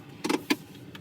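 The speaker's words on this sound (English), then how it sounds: "they're automatic, one touch up and down on all 4 windows" Power windows on a 2013 Volkswagen Tiguan crossover, two short close motor whirs in quick succession followed by a faint third, quiet inside the cabin.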